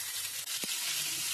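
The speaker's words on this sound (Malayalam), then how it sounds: "ഇനി അതിലേക്ക് നമുക്ക് ചിക്കൻ ഇട്ട് കൊടുക്കണം." Small pieces of chopped chicken hit hot oil in a pan, giving a soft steady sizzle with a brief clatter partway through, quiet and close with no voices.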